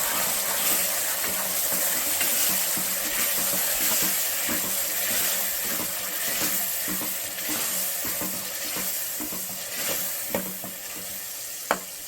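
Onions and ground masala frying in oil in a pan for chana masala make a steady, dense sizzle with intermittent scraping of stirring, close and continuous with no talking.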